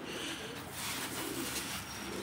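Pigeons in a loft, a soft low cooing murmur running steadily under a noisy, broadband background.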